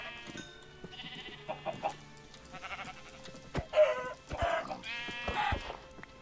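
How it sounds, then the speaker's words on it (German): Sheep in the Minecraft video game bleating in several short, separate calls, clear and fairly close over a quiet background, with faint chicken-like clucks mixed in. "Es sind ja genug Schafe da"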